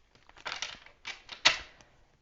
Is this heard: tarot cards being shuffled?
yes